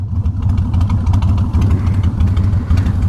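Kawasaki Vulcan 1500 Drifter motorcycle engine rumbling close by as the bike pulls up alongside, a steady loud low throb with slight revving swells throughout.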